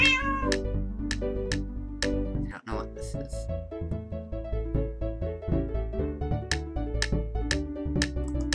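A Minecraft cat meows repeatedly over constant game music, with the sharp mews recurring at a fairly regular rhythm, close and clear.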